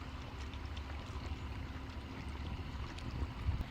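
A dinghy runs into the wind on an electric trolling motor powered by a tool battery, giving a faint steady hum under wind noise and water wash throughout.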